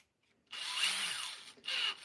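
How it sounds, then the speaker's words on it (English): A power drill whirs as it drives a part into an RC racing car build, two short high-pitched bursts separated by a brief pause after a moment of silence, close and clear. "Put it in a drill and just drill it in."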